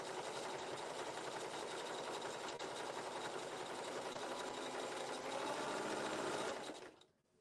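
A sewing machine stitches turban fabric in a fast, continuous mechanical hum that runs steadily and close, then stops abruptly at the end.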